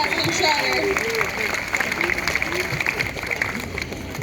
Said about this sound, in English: How about a round of applause for Jasmine Shredder?